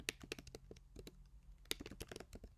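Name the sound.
typing on a computer keyboard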